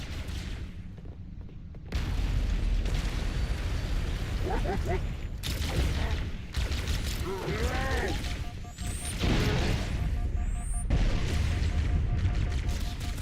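Grenade blasts go off in Halo: Combat Evolved on Legendary difficulty aboard the Pillar of Autumn, with loud booms and crashing impacts amid gunfire and alien chatter, while a voice talks over the game.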